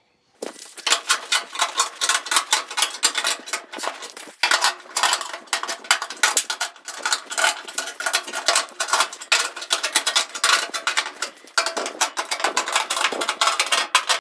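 A sheet metal fender edge on a 1940 Ford-inspired custom build is unrolled and flattened with dense, rapid metallic clanking and tapping, close and continuous throughout, with no voices.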